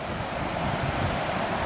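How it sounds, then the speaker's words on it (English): Water pouring over Laurel Fork Falls, a steady broadband rushing roar, close and unbroken for the whole short stretch, with no talk. "right there is where the water goes over the falls"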